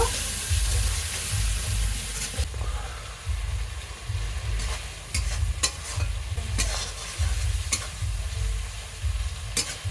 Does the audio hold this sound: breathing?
no